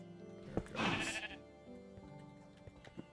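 Sheep bleating in Minecraft, a single clear, wavering bleat close up over faint background game music and a few soft clicks.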